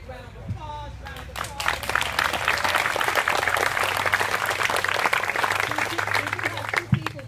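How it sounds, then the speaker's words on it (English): A crowd at a senator's event breaks into sustained applause that swells after a moment and holds steady, with voices and a few whoops mixed in beneath the clapping. "Another big round of applause."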